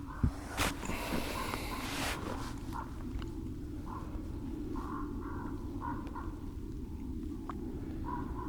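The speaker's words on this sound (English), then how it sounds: "A really noisy crow over there today." A noisy crow caws repeatedly from a short distance beside a partly iced-over lake, calls spaced at irregular intervals over steady outdoor ambience.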